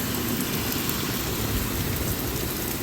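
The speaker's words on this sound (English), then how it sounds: "Still seeing some fairly heavy rainfall." Heavy rain pours down steadily during a severe-weather thunderstorm in Michigan, a loud, dense wash of rainfall with no breaks and no voices.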